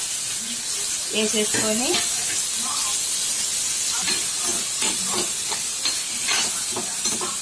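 Curry leaves, fenugreek leaves and green chillies sizzle and hiss steadily in a hot frying pan for potato kurma, with occasional stirring clinks and a brief spoken phrase over the frying.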